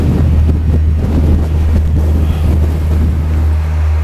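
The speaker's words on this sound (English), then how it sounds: "The wind is that bloody strong" Strong wind buffets a cyclist's helmet-mounted microphone while riding, producing a loud, continuous low roar with rumbling gusts and a steady deep hum throughout, with no talking.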